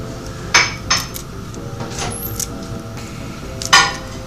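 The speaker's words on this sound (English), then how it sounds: "We're going to cut a little bit of broccoli." A knife chopping broccoli on a cutting board, a few sharp separate cuts spaced irregularly against a quiet kitchen background.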